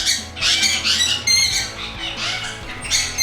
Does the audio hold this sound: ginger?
no